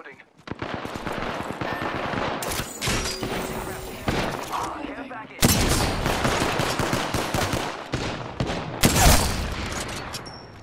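Rapid automatic gunfire crackles through an Apex Legends firefight, dense bursts running almost nonstop with a brief lull before louder volleys resume, mixed with impact and shatter-like effects.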